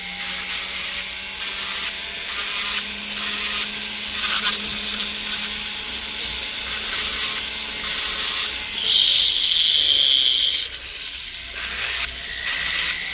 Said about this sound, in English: Let's grind this inside out a little bit.